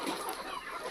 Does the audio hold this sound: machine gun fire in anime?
no